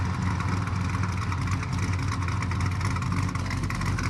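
A 1964 Chevrolet El Camino's engine runs on a test drive, a steady, moderately loud drone with a rough low rumble that holds constant throughout.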